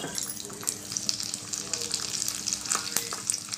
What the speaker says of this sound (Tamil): இங்கே ஒரு சின்ன கடாயில் ஆயில் போட்டிருக்கோம், நல்ல ஸ்மெல் வரும் இந்த வடகம்